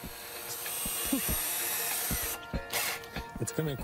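A power drill bores and drives screws through interlocked tree trunks, producing close, grinding, ratcheting bursts that rise and stop in short bouts.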